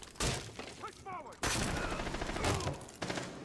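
Gunfire in Rainbow Six Siege during a Terrorist Hunt match on hard difficulty: sharp bursts of shots crack out in rapid clusters, loud and close, with some ricochet-like chirps between volleys.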